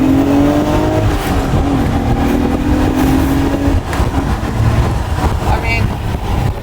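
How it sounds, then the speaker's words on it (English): A 1999 sports car engine revs hard toward 8,000 RPM, a loud sustained rising drone that drops and climbs again as it shifts into third gear, heard from inside the car. "Give it a rip, and we're gonna get into third."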